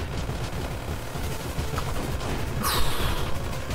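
Gunfire from the video game Monolith rattles in a dense, continuous stream of rapid shots, with a brighter, louder burst near the end and no voices over it.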